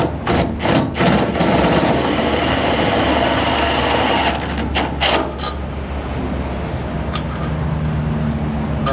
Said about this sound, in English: Definitely needs to go just a touch larger, which the step drill should handle.